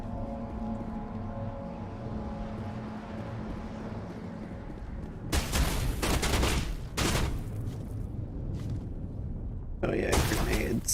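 Grenade explosions in the video game Mass Effect burst in as loud, heavy blasts with rumbling gunfire, breaking a quieter stretch of low hum before returning in a second forceful burst near the end.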